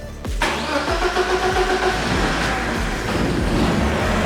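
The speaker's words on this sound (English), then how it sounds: "should be able to turn the key, start it without having to babysit the throttle" A loud race car engine with individual throttle bodies cold-starts, cranking and catching, then settles into a rough, lumpy idle with rhythmic pulsing; close by, no voices.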